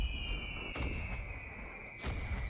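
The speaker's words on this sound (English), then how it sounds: "I can't believe how good the fireworks are" Fireworks bursting in a video game, two sharp broadband pops about a second apart over a steady tonal game soundscape with constant low rumble.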